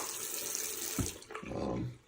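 Water runs from a tap into the tank of an ultrasonic cleaning machine used for vintage safety razors, a steady splashing rush with a brief gurgle midway, close and without talk.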